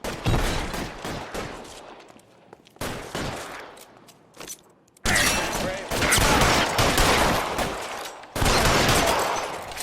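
Heavy gunfire in the video game L.A. Noire: dense bursts of rapid shots and fusillades come in loud, near volleys broken by short pauses, with shouted voices between some bursts.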